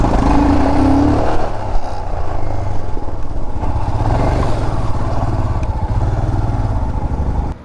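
A motorcycle rolls slowly over loose soil near a beach, its engine droning loud and close with a steady low rumble and some clatter, briefly revved at the start.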